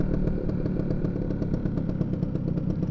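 A Vespa P200e scooter engine idles steadily with a close, even, putting two-stroke chatter and a faint rattling clatter throughout.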